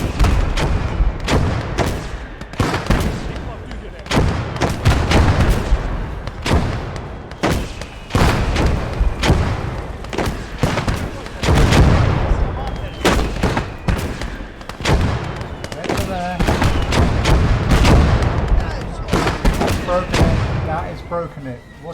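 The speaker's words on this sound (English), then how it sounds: "Keep the mortars firing." Mortars and an artillery piece fire in a World War battle strategy game, a dense barrage of loud booms and blasts thumping steadily and close throughout, with overlapping impacts and continuous rumble.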